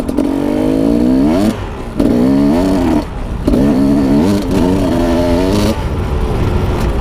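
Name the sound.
cold motorcycle engine climbing a hill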